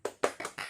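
A class of schoolchildren in a maths lesson does a rhythmic spirit clap: four quick, sharp claps in a short pattern, faint and slightly distant, with no talking.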